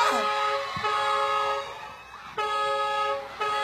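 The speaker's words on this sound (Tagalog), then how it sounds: "Lakas ang busina ng tricycle dyan" Sharp, harmonic tricycle horn blasts honk several times close by, with short gaps between them, over steady street noise.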